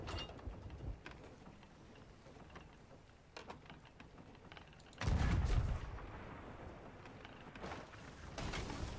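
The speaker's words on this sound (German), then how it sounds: "Irgendwie schießen die ja von der Insel gerade auf uns." Cannon fire booms from an island in the video game Sea of Thieves: one heavy, loud blast stands out in the middle, with lighter thuds and clatter around it and no talk.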